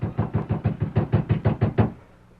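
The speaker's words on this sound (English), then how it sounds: "Betty Mason beat her fists against a cabin door." Fists pound a wooden cabin door on the edge of a small mining town, about ten heavy, evenly spaced blows close by in a quick steady rhythm, then a short quiet tail.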